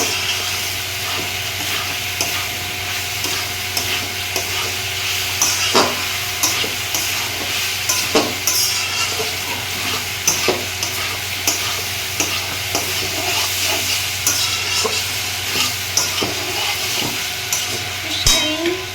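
Soybean and potato sabji frying in a pan: a loud, continuous sizzle with repeated scraping stir strokes throughout, and no talking.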